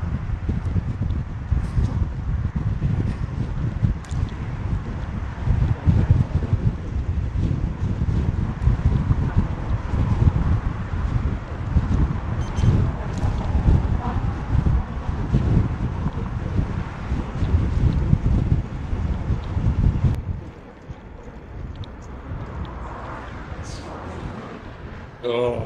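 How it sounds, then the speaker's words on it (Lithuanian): Strong crosswind buffets a moving vehicle and its microphone on a road trip between Roche and Mazagón in Spain, a loud, steady low roar with gusty rustle that drops sharply near the end. "Stiprus šoninis labai vėjas."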